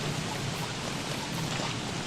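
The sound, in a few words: rain in a video game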